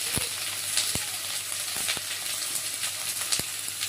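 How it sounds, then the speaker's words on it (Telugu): Onions fry in hot oil in a pan for a chicken and raw mango dish, a steady close sizzle with occasional sharp pops and clicks throughout. "ముందుగా ఆయిల్ వేసుకోవాలి. ఆనియన్స్ వేసుకోవాలి."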